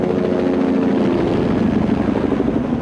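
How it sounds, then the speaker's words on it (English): A Bell Jet Ranger helicopter fitted with infrared heat-seeking gear flies overhead during a nighttime search, its rotor and turbine making a loud, steady, throbbing drone throughout. "It's a Bell Jet Ranger helicopter specially equipped with infrared heat-seeking instruments."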